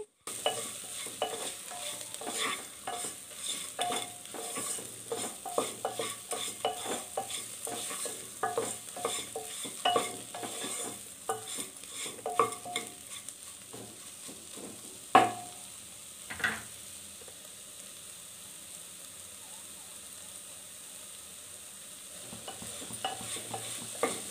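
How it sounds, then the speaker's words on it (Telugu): Soya chunks (meal maker) fry with spices in a pan, a low steady sizzle broken by repeated scraping stirs of a spatula, quieter toward the end, with no talk. "మిల్ మేకర్ కూడా ఒక 10 నిమిషాలన్న పచ్చివాసన పోయేంత వరకు ఫ్రై చేసుకోవాలి"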